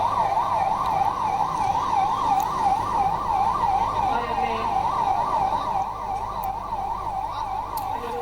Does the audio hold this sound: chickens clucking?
no